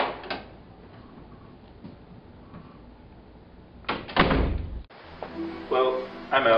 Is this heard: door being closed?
yes